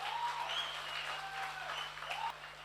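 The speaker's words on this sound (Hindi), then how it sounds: "तालियां बजा सकते हैं हमने लिए तो बजा लीजिए" Audience applause at an anniversary speech event for RootPure, a steady wash of clapping at moderate level through the whole stretch, with faint higher tones riding over it.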